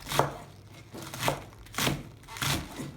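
Four slow, evenly spaced knife chops through the leafy green tops of spring onions on a cutting board, close and clear, with no voices.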